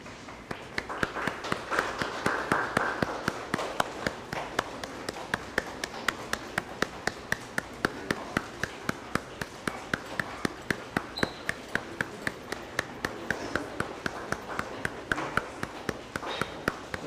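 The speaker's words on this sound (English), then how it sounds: "what we're going to do is just a golf clap." A graduating class's audience gives a soft golf clap at a K9s For Warriors ceremony in Ponte Vedra, Florida, with light, steady, evenly spaced claps continuing throughout.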